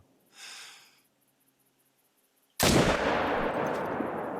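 A single sharp rifle shot from a .300 Canning Magnum in theHunter: Call of the Wild cracks loud and close after a brief faint breath, then rolls into a long, sustained echoing tail.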